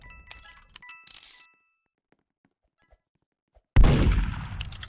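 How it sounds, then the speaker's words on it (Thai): A few sharp clinks and taps, then a loud single gunshot blast in the Roblox game Murder Mystery 2 that rings out and decays with a rough, noisy tail. "เสียงปืนดังขึ้นแล้ว"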